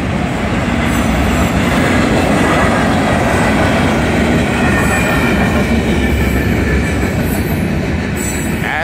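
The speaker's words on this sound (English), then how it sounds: "There's the end of the train right there." A Union Pacific outbound manifest freight train led by locomotive 6748 rolls loudly past a grade crossing at Val Vista Drive, a steady close roar of wheels and rail noise with faint squeals and no talking.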